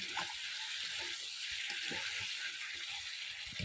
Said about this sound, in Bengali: চিকেনটা কষানোর সময় দিয়ে দেব গরম মশলার গুঁড়ো ভালো করে চিকেনটা কষিয়ে নেব